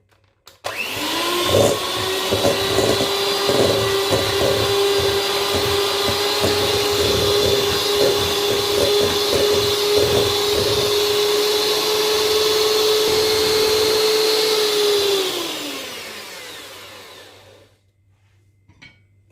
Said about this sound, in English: I'm using hand mixer. Mix it properly.